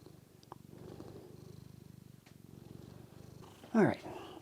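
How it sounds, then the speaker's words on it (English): An old, blind cat purrs close up in a soft, steady rhythmic rumble, and a person speaks briefly near the end. "But he can still purr."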